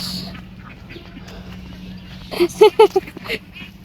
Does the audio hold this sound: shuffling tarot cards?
no